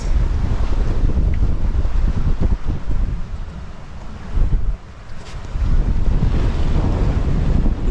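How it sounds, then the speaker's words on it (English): Strong gusty wind roars across an anchored sailboat at sea, buffeting the microphone with heavy low rumble and surging in waves, briefly easing before building again. "It's gusty. Still gusting on the island"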